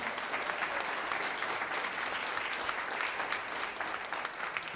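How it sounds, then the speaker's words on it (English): Dense, steady applause from a crowd at Gotham Comedy Club fills the room, a continuous wash of many hands clapping at even loudness with no talk over it. "Give yourselves a hand for coming out tonight to support Raw Side Comedy."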